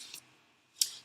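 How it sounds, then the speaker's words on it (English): Two quick snips of scissors trimming the ends of paper for a card, crisp and close, separated by a short pause. "then I'm going to just trim the ends with my snips"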